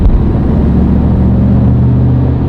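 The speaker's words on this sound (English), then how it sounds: "I do prefer the noise, the naturally aspirated V8s provide over the supercharged versions" A Holden VF Maloo R8 with a naturally aspirated V8 holds a loud, deep, steady rumbling drone at close range with no talking.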